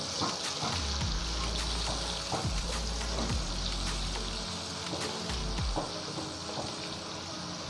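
Onions hit a hot pan and fry with a bright, steady sizzle, punctuated by repeated scraping strokes of a spoon against the pan.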